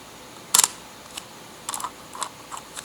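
Zorki 1, a Soviet copy of the Leica, fires its cloth focal-plane shutter once with a loud, sharp mechanical snap, followed by a few fainter clicks and rattles as the mechanism settles, close up and alone.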